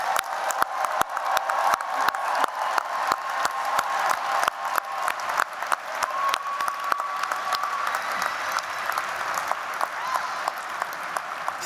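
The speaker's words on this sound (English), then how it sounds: "Let's give another round of applause for our amazing graduates." Sustained applause from a large crowd at a Georgia Tech College of Engineering master's commencement, many hands clapping continuously for graduates across a big hall, with a faint voice partly under it.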